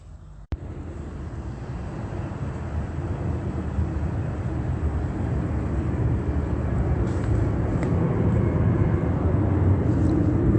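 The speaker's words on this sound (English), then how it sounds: "Just want you to hear this plane." Airplane flying overhead at night, a steady broad engine roar that swells gradually and holds loud throughout, with a sharp click near the start and no talking.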